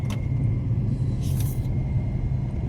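A road vehicle pulls away and moves off, leaving a steady, close low-frequency engine rumble throughout, with a short faint hiss partway through and no voices.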